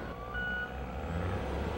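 Heavy trucks working beside a train unloading intermodal waste containers bound for a landfill, a steady low diesel rumble with a brief high reversing beep tone and faint machinery clanks, no talk.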